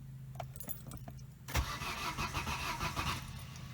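A car engine cranks but does not start: quiet clicks and rattles come first, then a loud, close, rhythmic whirring crank that carries on for about two seconds without catching.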